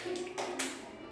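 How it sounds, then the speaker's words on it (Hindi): Children snapping their fingers together in a school classroom activity, a few soft scattered snaps and taps sounding at a moderate distance over a faint room background. "बजाइए चुटकी"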